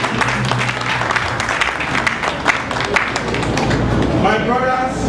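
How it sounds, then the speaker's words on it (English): A church congregation gives a clap offering, loud close clapping from many hands with scattered sharper claps, mixed with voices and cheering, and a voice rising near the end. "Can we give a clap offering again unto the Lord?"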